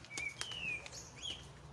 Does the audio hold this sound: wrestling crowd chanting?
no